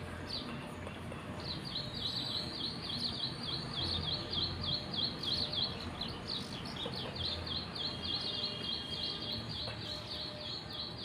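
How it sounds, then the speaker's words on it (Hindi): Birds sing and chirp steadily outdoors in the morning, a continuous bright twittering that carries through the whole stretch over a constant background hiss, with no voices. "यहाँ पे मतलब चिड़िया बोल रही थी,"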